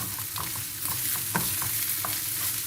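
Spices are stirred into a sizzling filling mixture in a frying pan with black pepper and salt, the spoon scraping through a steady low frying hiss with scattered soft clinks and one firmer knock, no voices.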